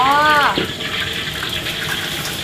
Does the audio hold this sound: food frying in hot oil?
yes